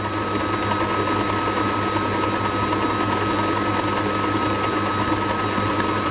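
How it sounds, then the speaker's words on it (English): An electric mixer whirs steadily at moderate speed through madeira cake batter, a continuous even mechanical hum with faint rattling and no talking. "I'm just going to let that mix together without putting it up too high."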